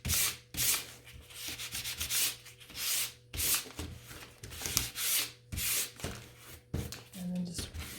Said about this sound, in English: now you've sanded down that roughness that the wood can get, especially on a first coat of paint